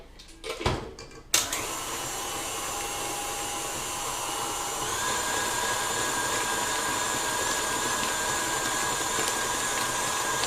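An electric mixer running on high speed, beating gluten-free cupcake batter. After a couple of clicks and a switch-on thump, it holds a steady, loud whirring drone that rises slightly in pitch partway through, with no talk over it.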